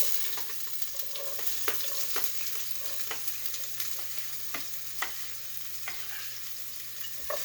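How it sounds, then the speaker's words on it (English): Chopped onion frying in about two tablespoons of oil in a hot pan, a steady close sizzle with crackly pops and occasional spoon stirs, no talking. "I'm going to let that sizzle just for a few minutes."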